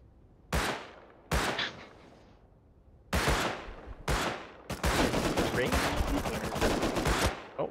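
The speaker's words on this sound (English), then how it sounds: "Oh, I hear gunshots." Several sharp gunshots ring out in the video game Rust, first as isolated cracks, then a rapid burst of automatic fire, with a game-like crisp quality.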